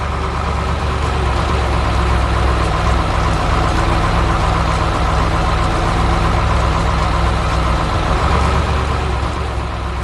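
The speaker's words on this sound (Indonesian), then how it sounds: "Sekarang giliran truk sampah yang bekerja keras." A garbage truck's engine runs steadily throughout, a continuous loud low rumble with a constant mid-range drone and no pauses.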